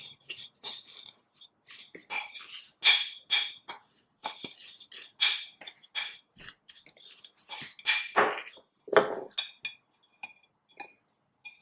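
Dried tea herbs, including woody licorice root, are tossed and stirred in a bowl, giving close, crisp rustling and light clinking in irregular bursts, quiet with brief pauses.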